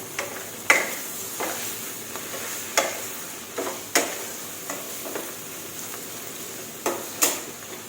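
Winter melon stir-fries with egg and soy sauce in a pan, a soft steady sizzle broken by about a dozen sharp spatula scrapes and clacks at an irregular, unhurried rhythm, close by.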